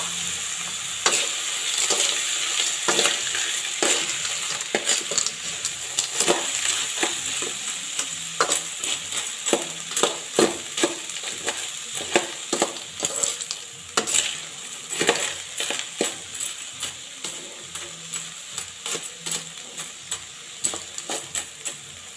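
Bugitis shells sauté in a pan, a soft sizzle running under repeated scraping stirs and light clacks of shells against the metal, with no talking.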